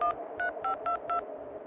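Telephone keypad tones sound as a cartoon effect for a number being dialed: five short, evenly spaced electronic beeps, loud and close, followed by a brief pause.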